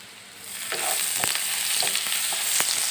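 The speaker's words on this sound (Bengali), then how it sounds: "ভাজি করার জন্যে আমি চুলায় হাফ কাপ পেঁয়াজ দিয়েছি, এক টেবিল চামচ রসুন দিয়েছি, আর এই যে একটি শুকনা মরিচ দিয়েছি।" Onion, garlic and a dried red chili fry in hot oil on a stove, giving a steady close sizzle that swells after the first moment, with occasional sharp crackles and spatters and no voices.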